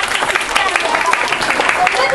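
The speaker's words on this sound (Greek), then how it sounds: "Ένα χειροκρότημα παρακαλώ." An audience gives a burst of lively applause, dense continuous clapping from a crowd lasting a couple of seconds, loud and close.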